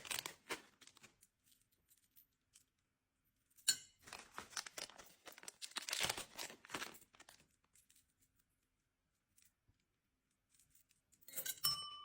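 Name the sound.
crinkling plastic packets being handled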